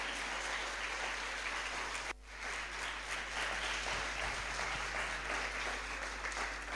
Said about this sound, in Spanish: Dele un fuerte aplauso al Señor. Apláudale bien fuerte, vamos.